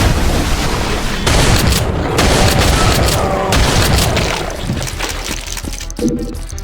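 Rapid gunfire from the Brutal Doom 1 shooter, played on Deimos Anomaly, rattles in loud repeated bursts with heavy booming low end, close and continuous across the whole stretch.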